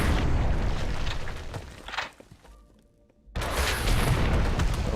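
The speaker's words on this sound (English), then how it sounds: "Each explosion is calculated in real time." Rocket blasts in the video game Red Faction: a loud sustained roar of explosions and crumbling debris fades out, leaving a brief near-quiet gap before another heavy blast kicks in and keeps rumbling.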